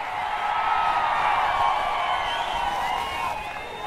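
A large crowd at a Chandrababu Naidu political rally in Chintalapudi claps and cheers in a dense, continuous wash of applause that holds steady throughout the few seconds.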